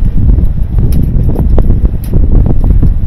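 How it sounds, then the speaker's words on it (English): Wind blowing outdoors on a cool late-September day, a steady broadband rush with low rumbling gusts buffeting the microphone throughout, loud and continuous with no voices. "Wind is blowing today."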